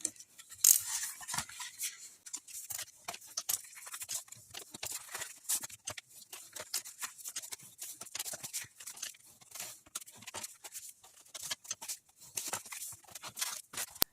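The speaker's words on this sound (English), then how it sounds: "you want to fold and burnish both of those score lines all the way around" A bone folder scrapes and rubs along scored paper lines while folding and burnishing an envelope box, producing soft, quick, irregular close-up scratching strokes with no talk.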